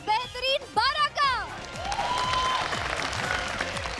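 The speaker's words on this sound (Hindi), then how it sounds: "एक बार जोरदार तालियों के साथ स्वागत हो जाए हमारे बेहतरीन 12 का" An audience on the TV dance show Dance India Dance claps to welcome its top twelve dancers, a broad clapping swell building in after a presenter's loud spoken welcome and continuing steadily.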